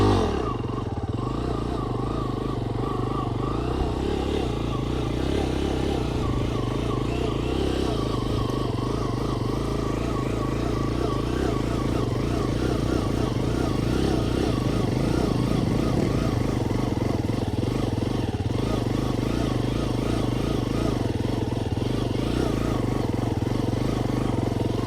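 A stunt motorcycle's engine runs steadily throughout a flatland circle stunt, a continuous close drone with slight shifts in revs and no voices over it.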